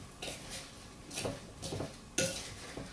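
Lemon zest and lemon juice being stirred together in a bowl for a double berry summer cobbler, with a few quiet scraping and clinking strokes of a utensil against the bowl, close and faint.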